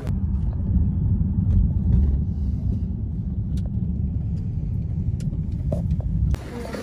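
A car pulling away from a Cracker Barrel lot, with a steady low engine rumble and road noise throughout, dropping slightly near the end.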